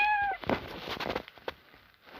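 A single short cat meow from the video game Toca Boca at the start, followed by soft shuffling and clicking noises.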